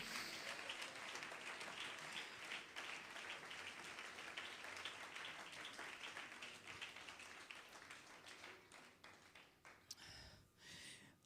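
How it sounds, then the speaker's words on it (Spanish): A church congregation applauds in a steady, dense wash of clapping that thins toward the end. "Dele ese aplauso al Señor."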